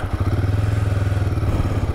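A Royal Enfield Guerrilla 450 motorcycle engine catches and settles into a loud, close, rapid thumping idle.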